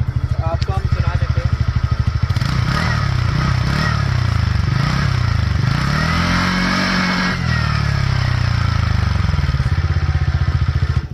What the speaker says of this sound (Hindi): इसका साइलेंसर बहुत प्यारी आवाज़ देता है, आपको हम सुना देते हैं।